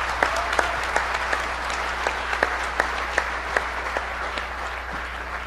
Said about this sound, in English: So please give a round of applause for the EFF.